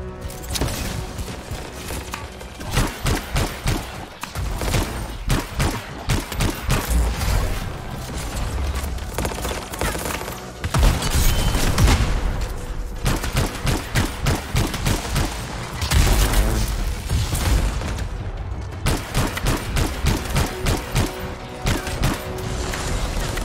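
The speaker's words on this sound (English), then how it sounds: "Time to show them that really large gun" A very large gun in a video game firing in sustained loud bursts of rapid gunfire, with heavy booms and mechanical clatter across the whole stretch and brief pauses between volleys.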